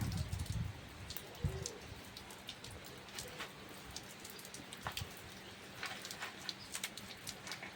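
Soft, steady rain patters over a village with scattered drops ticking on a surface, fairly quiet, with a faint bird call early on.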